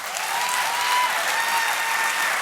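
Steady, dense applause with cheering from a large studio audience, continuous and loud throughout with no pauses, rising slightly at the midpoint, celebrating women who spoke out about Harvey Weinstein.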